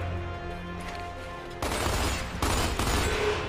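Gunfire in the video game Gears of War 2: a quiet lead-in, then two loud rapid bursts of shots, close and sharp, with no talk.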